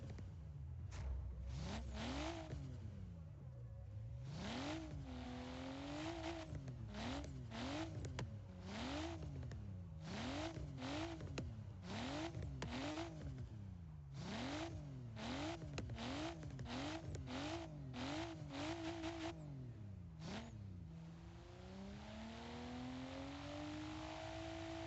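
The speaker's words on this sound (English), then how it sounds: "it'll just start going bang, bang, bang, bang, bang. Like, I mean, just listen to this engine." A car engine in the Forza Horizon 3 video game revs repeatedly, rising and falling in pitch over and over, with pops and bangs of afterfire as the throttle lifts, loud and continuous without talk.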